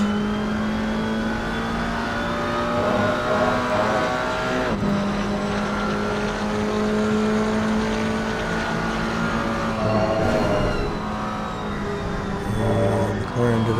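BMW GT4 race car engine droning steadily at high revs down a straight at Silverstone in an esports racing video game, a loud sustained whine with gear changes and other cars audible.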